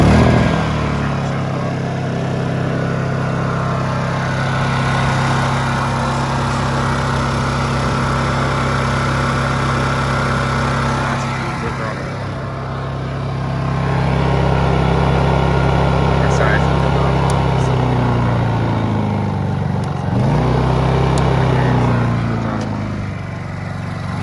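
Honda EU2000i and EU2200i inverter generators run with a loud, steady engine drone, their pitch shifting slightly as the load changes, while a person talks over them.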